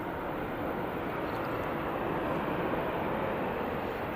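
An Emirates airliner rolls out after touchdown with its inboard thrust reversers deployed, giving a steady, broad roar of moderate level that holds evenly for the whole stretch.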